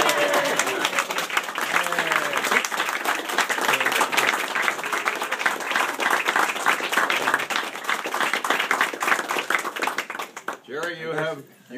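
Sustained, loud audience applause at a party as a plaque is presented to Jerry, steady crowd clapping with some cheering mixed in, tapering off near the end as a voice begins speaking.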